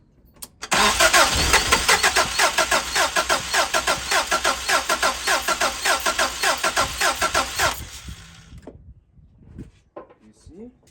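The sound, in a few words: car engine cranking and starting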